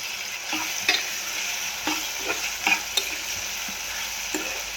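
Dry eggplant sabzi is stirred in a frying pan, a constant sizzle broken by repeated soft spatula scrapes and taps at an uneven pace.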